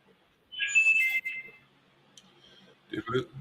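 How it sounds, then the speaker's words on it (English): A phone gives off a short, bright electronic notification chime, clear but moderately quiet in a calm room, followed by a brief clicking sound and a moment of nearby talk. "That's probably a notification on my phone"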